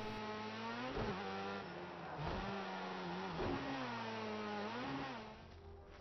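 Car engine in the racing game Project Cars 2, a steady revving drone that rises and drops through repeated gear changes, alone and fairly faint.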